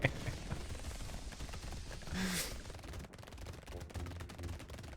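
SMG fire in Brotato: faint rapid bursts of small gunshots, growing denser in the second half and mixed with quieter game sounds.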